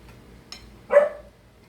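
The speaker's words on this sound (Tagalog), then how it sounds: "Aso ko po, tumatawol." A dog gives a single short, sharp bark close by after a faint brief yip, against a quiet room background.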